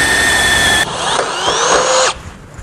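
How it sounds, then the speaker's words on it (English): A power drill with an 11/16 bit bores through the steel frame of a 2019 Ram 3500, a loud high whine that shifts pitch under load, then cuts off near the end. "We'll now use our 11/16 drill bit again to drill out the holes that we had marked"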